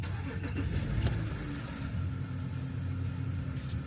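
A 2014 Porsche Cayenne 958.1 engine idles steadily after a key start, giving a continuous low rumble close by that stays even for the whole stretch, with no voices over it.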